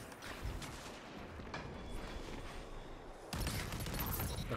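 Gunfire in the video game Destiny 2, dense crackling shots layered with game noise, rising to a louder burst near the end, heard without talk.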